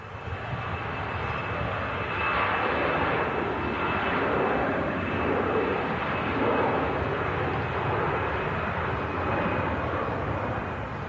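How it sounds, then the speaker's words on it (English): A Lufthansa airliner departs from an airport, its engines producing a loud, steady broadband roar that swells slightly and holds throughout with no voices. "Lufthansa on the south side departing"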